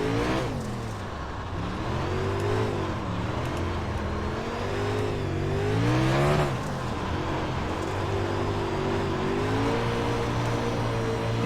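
A race car engine drones on the Chili Bowl dirt track in the iRacing sim, revving and easing through the corners with a steady, close, sustained roar.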